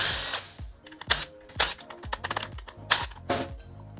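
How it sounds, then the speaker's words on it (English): Metal clicks and ratcheting taps of a 4mm Allen key backing out screws from OEM turn-signal components on a 2021+ Yamaha MT-07, a series of close, sharp mechanical snaps in an irregular rhythm with no talking. "Remove these screws."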